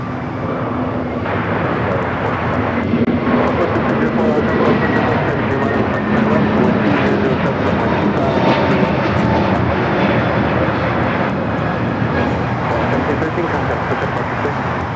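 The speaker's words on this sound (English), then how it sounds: "Another Dreamliner going to be taking off here on the south side." A United Airlines Boeing 787-9 Dreamliner takes off at a large airport, its jet engines producing a loud, continuous roar for about fifteen seconds, heard from the ground with people talking over it.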